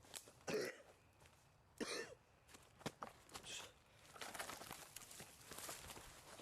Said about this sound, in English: throwing like 3 minutes of plot and then like 15 minutes of coughing in the woods